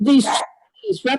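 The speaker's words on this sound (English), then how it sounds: "pardon my dog who's barking in the background" A dog barks sharply nearby, a couple of quick loud barks interrupting a person talking.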